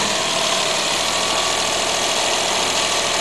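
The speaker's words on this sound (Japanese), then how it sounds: "はい、それではエンジンをかけます。" An engine runs at a steady idle close up during a spark plug test, a constant even hum and rumble with no breaks; the start itself is not distinct.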